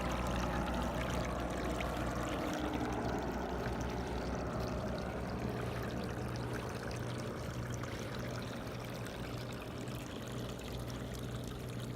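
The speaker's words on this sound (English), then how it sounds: "This is a water wheel" Continuous gentle splashing and trickling of water falling over a small model waterfall beside a water wheel, steady and fairly soft, with no talking.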